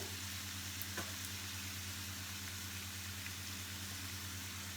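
Coconut milk simmers with butternut squash curry in a pan, giving a soft, steady low sizzle and bubble. A faint hum runs underneath, and a couple of light clicks come early on.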